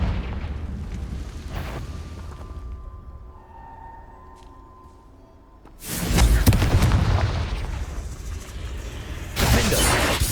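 Confringo explosive spell cast in Hogwarts Legacy, a loud broadband blast that erupts suddenly after a quieter stretch of cave ambience, followed by a sustained roaring rumble and a second burst near the end, no talk.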